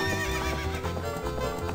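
Epona, the horse in the video game Zelda Ocarina of Time, neighs in a loud wavering whinny that fills the short moment, with hoof clip-clops mixed in.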